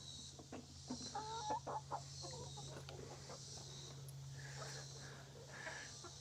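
Chickens in a predator-proof coop and run, soft scattered clucks and low murmuring calls close by over a steady background hum, with no talking.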